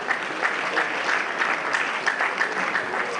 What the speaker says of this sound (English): And then clap for yourself as you do so.